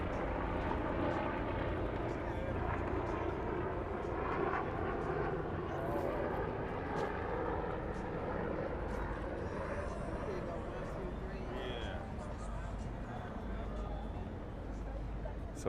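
A helicopter flies over San Francisco Bay near Fisherman's Wharf, its engine and rotor making a continuous droning rumble that stays steady throughout, under people talking nearby.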